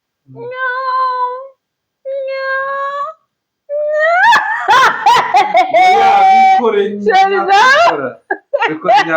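A person imitates a cat, giving two drawn-out meows, then breaks into loud, giggly laughter and excited vocal sounds.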